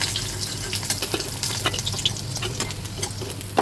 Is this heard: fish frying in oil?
yes